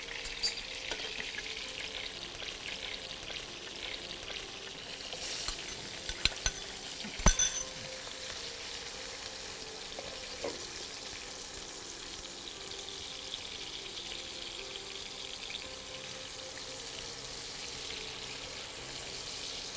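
Onions hiss and crackle in hot oil in a pan for a shrimp bhuna, a steady moderate sizzle with a few clinks of a utensil partway through, no voices over it.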